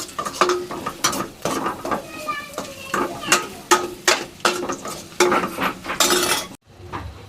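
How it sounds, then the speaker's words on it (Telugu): Chicken is stirred into a pan with ginger garlic paste, with a spoon scraping and clinking against the metal over a light sizzle in a steady, uneven rhythm before it suddenly stops. "చికెన్ అయితే వేసేసిన, కలిపి అయితే పెట్టేసిన అన్నట్టు."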